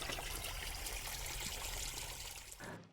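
Water runs steadily into a gourd field during irrigation, a continuous broadband trickling and gushing rush that holds close and even, then drops off abruptly at the very end.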